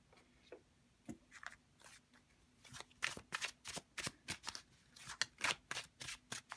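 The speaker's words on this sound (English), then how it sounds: "So I'm going to put this majors only deck off to the side." A deck of tarot cards is handled and shuffled close up, giving quiet papery flicks that build into dense, rapid riffling bursts. The sound carries in an otherwise quiet room.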